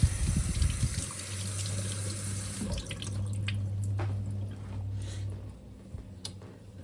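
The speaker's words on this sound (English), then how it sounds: "I'm going to just dry off this razor. Rinse off this stone." Running water rinses a sharpening stone and a straight razor over a sink, a steady splashing flow with a low hum, then trickles and drips as the stream eases off.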